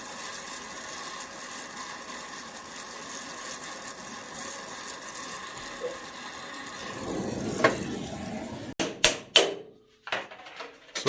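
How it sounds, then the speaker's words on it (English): A brass drift is hammered against bolts on an International TD6 crawler tractor, giving a handful of sharp metallic strikes near the end after a long stretch of steady mechanical hum. "So here we're using a brass drift to not damage the threads on the bolts, so we can reuse them."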